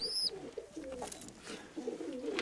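Pigeons coo softly in low, throaty bursts, close by, with a brief higher chirp at the start.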